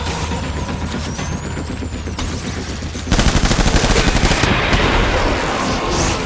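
Death Stranding gunfire: after a tense stretch, rapid machine-gun fire erupts loud and close, a dense stream of rattling shots that holds for a few seconds, then thins into scattered rounds.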